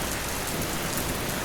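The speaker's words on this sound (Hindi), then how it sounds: "चारों ओर गहराती रात और तेज बारिश ने जैसे पूरे चंपानगर गांव को अपने आगोश में ले लिया था।" Heavy rain pours steadily over a village at night in an animated horror story, a dense, even hiss with no speech and no breaks.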